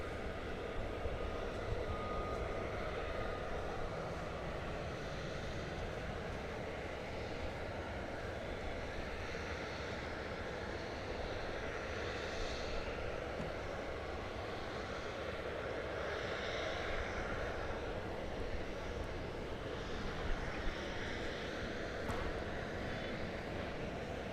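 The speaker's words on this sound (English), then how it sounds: "Here comes the flight from Tampa." An airliner arriving from Tampa approaches at DFW Airport, a steady broad engine roar that holds at a constant level throughout, heard from a distance outdoors with no talk.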